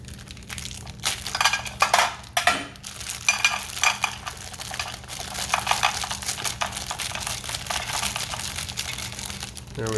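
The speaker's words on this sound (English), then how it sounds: "open the snack mix up" Close, steady crinkling and crushing of a Minotaur Trading Co Retro Ration K Supper snack mix packet being cut and torn open, with louder rustles near the start.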